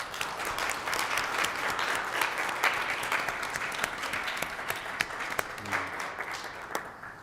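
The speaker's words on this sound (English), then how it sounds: "I'd like to give her a round of applause" An audience at a city council meeting gives a sustained round of applause, steady dense clapping from the crowd holding at an even level throughout with no talking over it.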